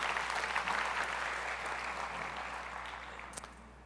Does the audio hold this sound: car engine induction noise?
no